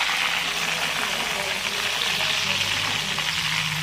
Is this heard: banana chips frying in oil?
yes